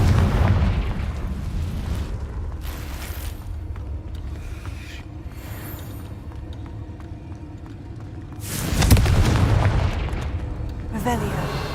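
Confringo spell blasts in the video game Hogwarts Legacy, a rumbling burst at the start and another heavy boom near the end, with softer crackling and scattered game sounds in between.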